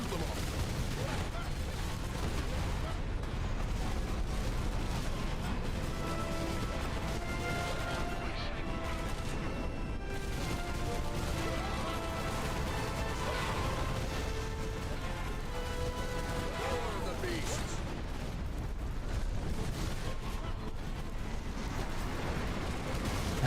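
Video-game gunfire rattles in repeated bursts over a steady bed of game sound effects and music, with a player's voice talking over parts of it.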